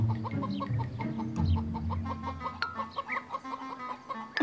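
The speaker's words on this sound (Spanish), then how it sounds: "decidimos ir con las expertas en huevos," Cartoon hens cluck in a barnyard, a loose chorus of short, clipped clucks and squawks that overlap busily, then thin out into scattered bursts near the end.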